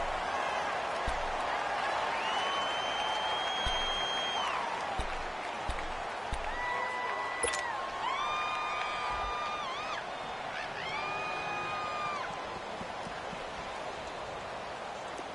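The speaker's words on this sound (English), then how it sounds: "The crowd getting into it as we come up on a big third down." A packed football stadium crowd at a Saints at Ravens NFL game roars steadily through the whole stretch, a dense continuous wash of cheering with some higher sustained tones riding over it.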